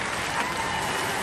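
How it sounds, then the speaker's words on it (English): A studio audience at Robot Wars breaks into a brief, steady burst of dense applause with a little crowd noise, loud and close throughout. "Give them a round of applause, ladies and gentlemen."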